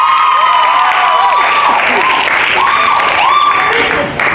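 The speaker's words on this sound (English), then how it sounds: "Round of applause." Loud, dense audience applause at an orchestra masterclass, a steady wash of clapping with some cheering and voices mixed in, sustained throughout and dropping off only at the very end.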